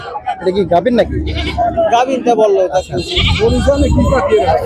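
Goats bleat repeatedly at a rural livestock market, loud and close, with a crowd talking over them.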